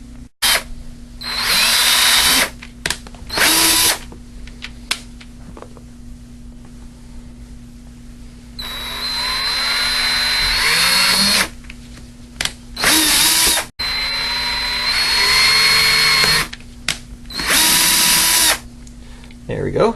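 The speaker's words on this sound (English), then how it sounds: "here I've got my my drill all ready to go with my 1/8 inch bit" A handheld power drill with a 1/8 inch bit bores guide holes in a plastic drainage bin, running in several loud whirring bursts of varying length separated by short pauses.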